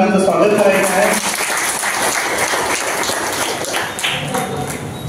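An audience at an education gathering claps to welcome the education officer, a dense burst of applause that starts loud and tapers slightly. A voice can be heard at the start, with the clapping continuing to the end.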